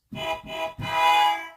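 Three buzzy, electronic beep-like tones play on a keyboard from a robot beep sample pitched down an octave, two short and one longer, with a gritty, lowered robotic timbre.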